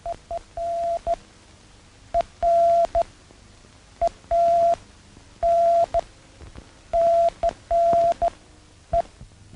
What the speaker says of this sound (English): Here they are learning the Morse code.